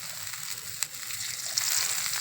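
Oil poured over onions already frying in a pan, a soft hiss and crackle close by with a couple of brief sharp spatters, no voices.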